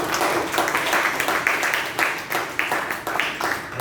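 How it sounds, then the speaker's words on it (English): An audience at a community youth program breaks into applause, a dense, steady patter of many hands clapping at once in a hall, sustained at an even level. "Let us give a round of applause to them."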